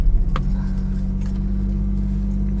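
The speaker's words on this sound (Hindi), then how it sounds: "so this is the cold startup" A 25-year-old 2000-model 800 car idles steadily after a cold start, a low, even engine drone with a brief jingle of keys near the start. Close and continuous, with no talk over it.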